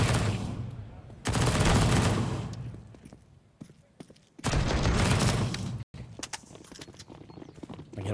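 AK rifle gunfire in a Counter-Strike match on Inferno: two loud bursts of rapid automatic fire, then scattered footsteps and smaller clicks in the background.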